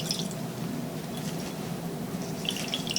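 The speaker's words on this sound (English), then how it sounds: "you are going to squeeze out that extra water" Water squeezed from a wet rag drips and trickles into a bowl, a soft steady wet patter close by with no talking.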